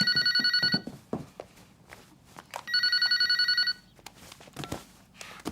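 A telephone bell rings in two loud bursts of repeated trills, separated by a pause with footsteps and small movement noises, in a home scene.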